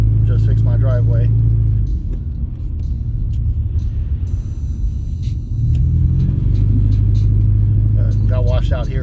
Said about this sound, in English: there's a dump truck coming at us